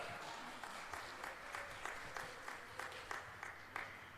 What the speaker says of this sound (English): I want you to give a big round of applause to Dieter Weiss from Dawson City.